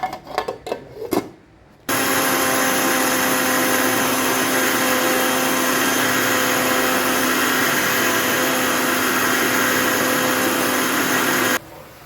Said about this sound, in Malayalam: നമ്മൾ അരയ്ക്കാൻ പോവാം കേട്ടോ